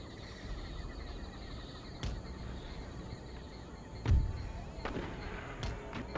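Musket volleys in the Empire: Total War strategy game during a Louisiana campaign: a low, steady rumble of distant gunfire with sharp cracks, the loudest burst about two-thirds through, under a busy battlefield bed.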